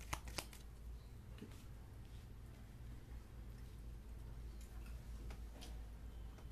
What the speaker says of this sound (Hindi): और 2 कार्ड निकालूंगी मैं।